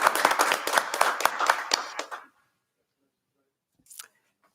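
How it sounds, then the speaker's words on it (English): A board meeting audience claps together for people being honored, a brisk burst of many hands lasting about two seconds before stopping abruptly, followed by silence and one short faint rustle. "And if we could just give one more round of applause to all the tremendous folks we had recognized tonight."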